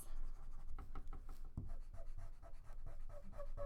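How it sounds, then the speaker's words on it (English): Eraser rubbing back and forth on paper to lighten areas of a chiaroscuro drawing, a steady series of soft, close scratchy strokes with no talking. "If it's too dark, grab your eraser"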